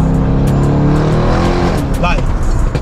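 A Mercedes E63S tuned toward 1000 bhp accelerates hard, its engine a loud, steady, deep roar rising slightly in pitch, close by, with brief pops and a voice speaking over it.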